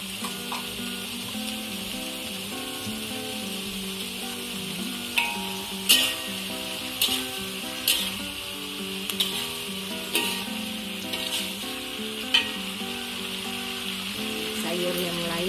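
Capcay goreng vegetables with mustard greens, carrot and jicama stir-fried in a wok, with a steady, loud sizzle throughout and a series of sharp clanks from stirring in the second half; no talking.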